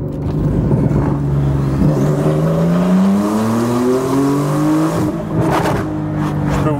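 Porsche 911 with an aftermarket exhaust, revving loud and near: the engine note climbs steadily through acceleration, then drops off into a burst of sharp popping crackles from the exhaust.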